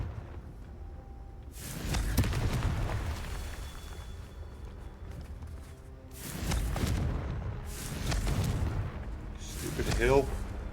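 Confringo explosion spells in a Harry Potter wizarding video game, a few heavy booming blasts spaced several seconds apart, fairly loud with a rumbling tail, while a voice talks between and over them.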